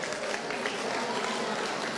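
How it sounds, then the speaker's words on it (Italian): A crowd applauding at an Italian local sports celebration, a dense continuous wash of clapping filling the whole moment with no pauses. "un applauso"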